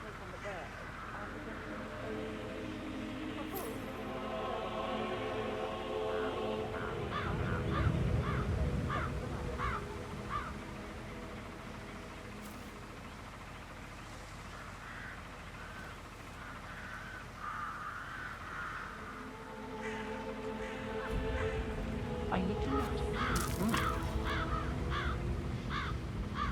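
Crow caws from the Hitman video game recur as short, bright calls spread across the scene, heard under ongoing dialogue and a low ambient rumble that swells midway and near the end.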